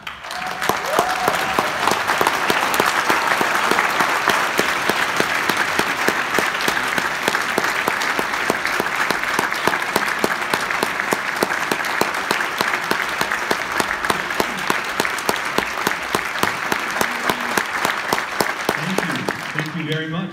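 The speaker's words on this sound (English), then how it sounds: "I appreciate the applause." Sustained, loud audience applause fills a school auditorium as a composer is welcomed to the stage before a wind symphony performance, steady dense clapping throughout with a few voices near the end.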